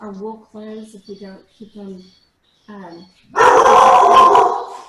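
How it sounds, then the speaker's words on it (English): A pet dog barks loudly and close up in a harsh burst lasting over a second, after someone speaks in a calm voice for several seconds. "that's my dog, sorry."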